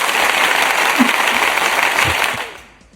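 An applause sound effect on an interview show: a loud, dense crowd clapping that holds steady for over two seconds, then fades out.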